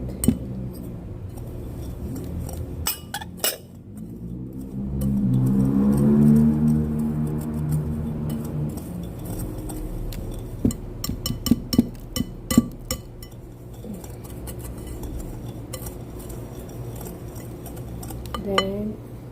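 Red velvet muffin batter mixed in a bowl, with a spoon or whisk clinking and scraping against the sides in an irregular series of taps and rubs, near and moderately loud.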